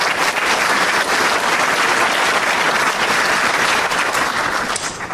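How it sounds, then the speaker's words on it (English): An audience at a Wasaga Beach Chamber of Commerce meet-the-candidates forum applauds the moderator. The clapping is loud and steady, a dense wash of many hands that holds evenly and eases off slightly at the end. "Give a round of applause for John Sandham."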